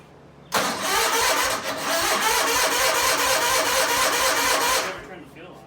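A John Deere 317 garden tractor engine catches and runs loudly at a steady, fast rhythm for about five seconds before cutting out, with faint talk in the background.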